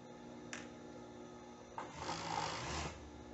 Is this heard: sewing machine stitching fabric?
yes